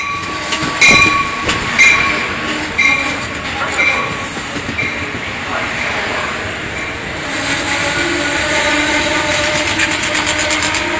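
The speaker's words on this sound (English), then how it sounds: "here comes the Shoreline East pulling into Guilford" A Shoreline East commuter train, cab car leading, rolls into Guilford, Connecticut station with loud rail rumble, wheel clatter and squeal, plus a brief horn-like tone early on, building steadily as it nears.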